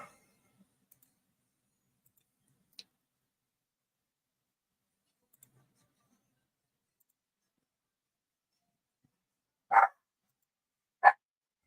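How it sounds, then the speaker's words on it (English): A dog barks twice in the distance, two short sharp barks near the end after a long stretch of near silence broken by a few faint clicks. "The dog's barking."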